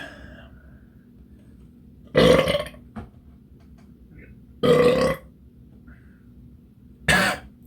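Three loud, drawn-out burps from a person after eating hot sauce, evenly spaced a couple of seconds apart in an otherwise quiet room.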